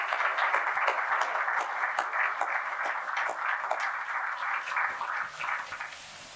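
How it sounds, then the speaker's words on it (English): Steady round of audience clapping at a chamber of commerce annual dinner honoring outgoing board members, many hands applauding continuously for several seconds before tapering slightly. "Please give these folks a well-deserved round of applause."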